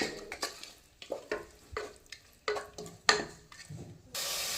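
Ginger and garlic paste frying in a pan for a Punjabi potato and eggplant gravy dish, with bursts of sizzling and scraping stirring strokes in irregular rhythm, close and alone, ending in a steady loud hiss.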